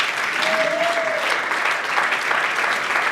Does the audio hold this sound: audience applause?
yes